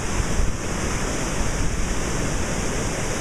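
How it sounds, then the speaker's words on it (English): Floodwater from upstream rushes over a submerged bridge at an RV park, a loud, dense, unbroken roar of churning water mixed with wind buffeting the microphone. "This is all of the water coming from upstream somewhere that has just completely taken over this bridge."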